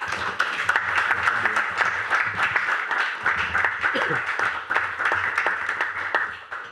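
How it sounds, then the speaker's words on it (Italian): Audience applause welcoming a speaker at a summer university event on intelligence and cyberspace, sustained dense clapping filling the room, with faint voices underneath. "lo salutiamo e lo ringraziamo con un applauso"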